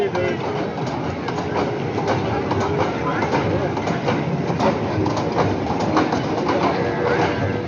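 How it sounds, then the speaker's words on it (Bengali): A bullet train roars by with a continuous rushing rumble and faint rhythmic clatter, steady and loud for the whole stretch. "bullet train"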